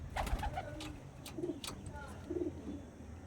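Kalshira pigeons coo close by, with several soft, low rolling coos spaced across a few seconds.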